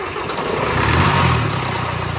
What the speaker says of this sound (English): That's the exhaust, don't worry.